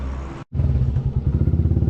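A motorcycle engine, warmed up for a day of passenger and cargo hauling, idles with a steady loud chugging pulse after a brief cutout, close by with no talk.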